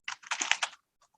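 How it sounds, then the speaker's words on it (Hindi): Brief, close bursts of fast typing rattle on a computer keyboard while a Python print statement is entered, ending in a few faint stray key taps. "मैंने इस जगह पर टाइप किया प्रिंट वेलकम टू"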